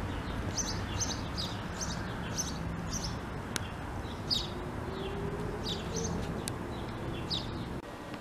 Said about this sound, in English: Just watching the birds.